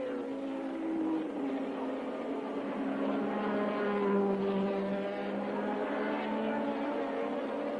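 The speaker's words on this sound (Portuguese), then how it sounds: "Você viu que na hora que despejar potência, o motor Honda levou Nelson Piquet um pouco mais à frente" Honda-powered Formula One car engine at the Austrian Grand Prix, a sustained high-pitched droning whine that rises and shifts in pitch, heard from a distance under steady broadcast ambience.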